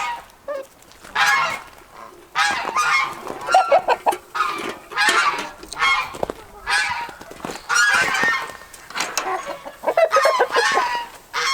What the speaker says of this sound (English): here's the outside of the chicken run